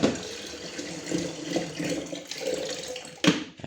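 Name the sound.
water heater being filled with water from tap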